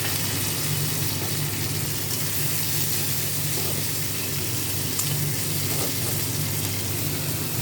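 Chilli and tomato fry in hot oil with garam masala and onion in a pan, making a continuous soft sizzle with faint stirring scrapes, steady and close, with no voices.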